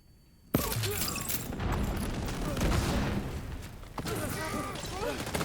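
Explosions and gunfire-like blasts in a video game burst in after a brief quiet start and continue as a dense, loud barrage with sharp hits, while a voice talks over the action.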